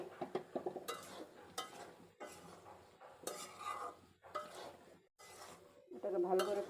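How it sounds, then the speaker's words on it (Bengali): Raw green bananas go into a cooking pot for a hilsa fish curry, with bursts of sizzling, stirring scrapes and clinks of utensils on the pot, close and fairly faint, in separate rustling clusters. "দিয়ে দিচ্ছি কাঁচা কলাগুলো।"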